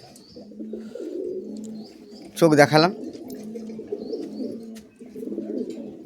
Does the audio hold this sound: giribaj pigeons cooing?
yes